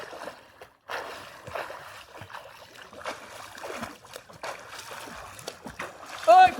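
A man swims with repeated broadband splashes of water from his strokes, close and fairly loud, with a short burst near the end and voices around him.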